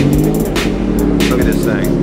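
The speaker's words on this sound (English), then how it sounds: "That's a Nissan 300ZX twin turbo." A Nissan 300ZX twin turbo at a night car meet under a bridge, its engine a steady, loud low rumble with brief rev swells, with crowd chatter and voices mixed in.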